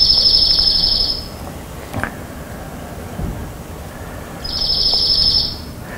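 Dark-eyed junco singing its trill, two fast, even, high-pitched trills about three seconds apart, clear and close, with quiet background between them.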